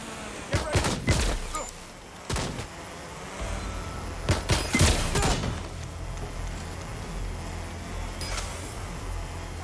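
Bursts of gunfire in Watch Dogs: Legion, several sharp cracking volleys in irregular clusters, some shots fired in quick doubles, loud and near against a low background hum, with no talking.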